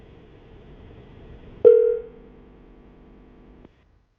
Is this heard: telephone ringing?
yes